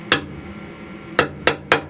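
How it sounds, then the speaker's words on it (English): A metal punch tapping a drill rod pin into a muzzle device, giving one sharp knock followed by three more quick taps in a row, close and distinct. "I like to use a punch just to give it a tap"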